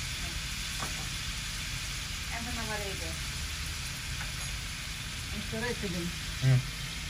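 Small shrimp frying in hot oil, a steady crackling sizzle running throughout. People talk over it nearby, and a brief louder knock comes near the end.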